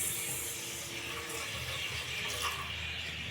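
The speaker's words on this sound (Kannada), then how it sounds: "ನೀರು ಹಾಕಿ, ದೂರದಿಂದ ಹಾಕಿ." Water runs steadily into a pot to make sugar syrup for jamun, a soft, continuous pouring rush heard alone at low volume.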